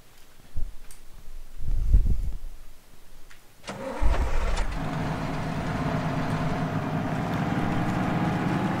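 An LAV Jackal 8x8 armored vehicle in a game cranks with a few low thumps and clicks, then its engine catches and settles into a steady mid-pitched idle hum with a faint whine, close and alone.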